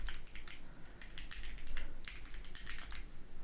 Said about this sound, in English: And Stella is typing away at our tier.